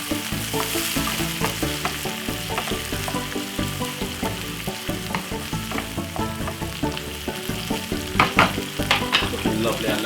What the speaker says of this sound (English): Make that fry for just about 2 to 3 seconds.